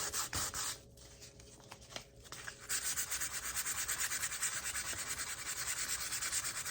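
Sandpaper rubbed across a white cooktop stove, a steady loud scratchy scrubbing with repeated back-and-forth strokes, briefly pausing early on before continuing continuously.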